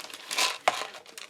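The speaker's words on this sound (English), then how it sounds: "I'm going to get in my little goodie bag here." Plastic goodie bag crinkled open by hand in a quiet room, a short burst of rustling and crackling with one sharp crinkle in the middle.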